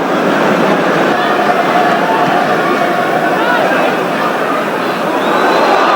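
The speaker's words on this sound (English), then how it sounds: "It's only a crowd reaction." A football stadium crowd at an Arsenal match in the 1981/82 season reacts to a tackle with a steady, dense roar of many voices that stays loud throughout.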